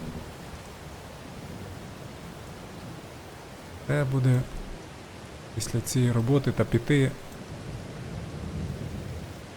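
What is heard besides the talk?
rain and thunderstorm in the video game Farming Simulator 22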